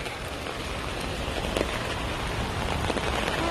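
Heavy rain pours steadily on a surface at dusk, a dense, unbroken hiss close by with no voices.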